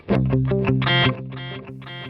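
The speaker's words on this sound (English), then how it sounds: "Ooh, that is a hell of a ping pong." Distorted electric guitar chords repeat in quick echoing pulses, a ping-pong delay effect bouncing the notes back several times as they fade.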